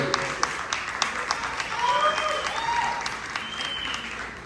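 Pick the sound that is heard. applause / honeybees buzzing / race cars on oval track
applause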